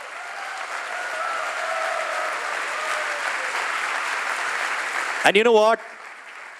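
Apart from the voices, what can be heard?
audience applause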